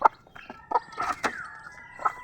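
A mother hen with two chicks on a Filipino backyard poultry farm clucks in short, close, moderately loud calls, several quick notes with a higher thin peep trailing between them.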